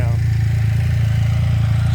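A Can-Am Spyder F3S three-wheeler fitted with an Akrapovic exhaust idles close by, a steady deep throaty rumble with an even low pulse throughout.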